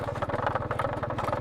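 A damaged motorcycle on a village road runs loud and rough, its engine throbbing in a steady, fast pulse with rattly mechanical clatter on top, close by and continuous with no talking.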